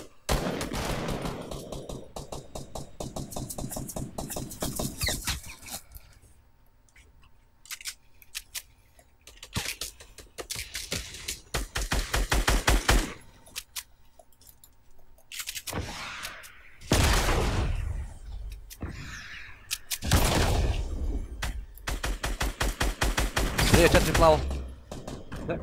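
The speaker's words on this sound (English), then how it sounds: "neko drugi nas gađa i mene pogodi" Fortnite gunfire in several loud bursts separated by quieter gaps, sharp cracks and rattling shots close by, with players chatting between and over the shooting.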